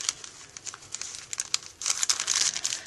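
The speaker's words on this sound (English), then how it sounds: "And then we just kind of fold it however we want to fold it." Paper bag pages folded by hand into a simple bag book, a close run of crinkling and rustling paper that grows denser and louder in the second half.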